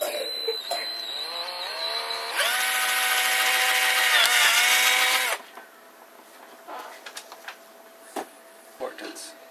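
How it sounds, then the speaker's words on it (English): A power drill whines at high speed for a few seconds, pitch rising as it bites into a plastic soda lid, then stops, followed by quieter handling clicks and scrapes. "You have an adult drill a hole through the soda lid."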